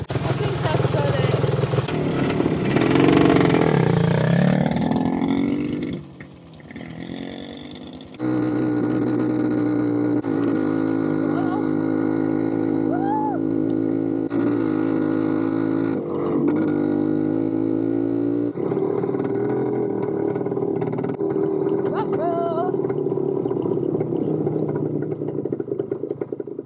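A vintage motorcycle engine drones steadily and loudly while being ridden off-road through a forest, its pitch rising and falling with throttle after a rough, clattering start and a brief lull.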